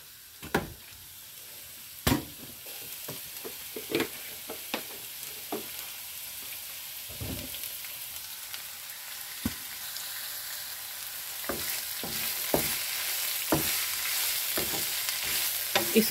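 Cabbage and carrots stir-fried in a little oil for chicken chow mein give a soft, steady sizzle, broken by occasional scraping clicks of a spatula against the pan, fairly quiet with no talk.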